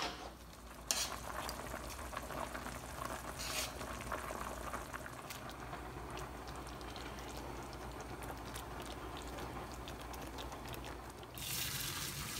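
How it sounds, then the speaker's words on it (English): Water bubbles and churns in a pot of pasta water at a rolling boil, a steady hissing rumble with a few clinks, close by and without talk. "We're going to get our pasta boiling."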